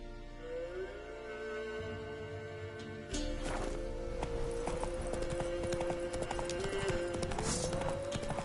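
Horse hooves clip-clop steadily in The Witcher 3: Wild Hunt as the horse Roach trots along, a regular rhythmic gait that picks up and grows louder partway through, set against layered game music and ambience.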